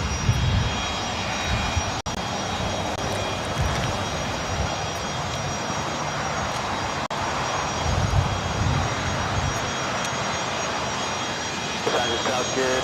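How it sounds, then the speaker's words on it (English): A corporate jet on a taxiway at Los Angeles airport gives a steady, broad engine roar with a high whine layered over it, fairly loud and continuous throughout, while a voice talks over it. "Looks like we have a corporate jet over here on Alpha."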